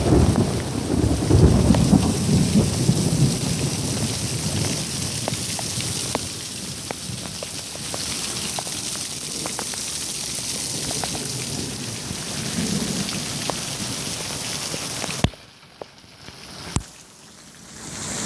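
Heavy pouring rain falls steadily on surfaces while thunder rumbles through it, before the downpour drops away abruptly near the end.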